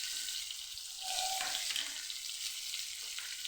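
Stuffed kantola (spiny gourd) curry cooks in a pan with a steady close sizzle, and brief scraping stirs rise about midway.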